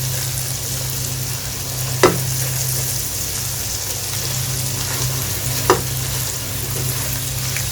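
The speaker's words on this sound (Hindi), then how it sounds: "ये देखें अच्छी तरह से भुनेंगे मसाले" Tomato and spices fry in oil for a curry gravy with a steady, crackling sizzle. Two sharp utensil taps break through at intervals, and no one speaks.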